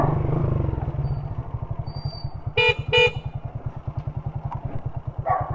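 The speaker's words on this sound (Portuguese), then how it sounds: "Eu vou buzinar, ver se alguém abre o portão pra mim." A vehicle horn gives two sharp, loud honks close by over the steady chugging of an idling motorcycle engine.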